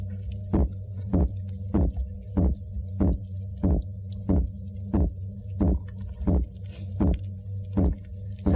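Underwater fish grunting while guarding eggs: a steady train of about twenty short, thumping grunts, evenly spaced a little under half a second apart, over a constant low hum.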